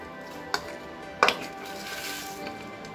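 Edible gum (gond) being broken into fine pieces by hand in a kitchen, two sharp crisp cracks and a few softer crumbling rustles against quiet room tone.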